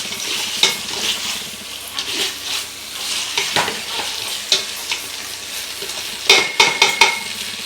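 Meat biryani masala stirred in a pot: a continuous sizzle with irregular scraping and clattering strokes of a ladle against metal, growing busier and louder toward the end, no voices.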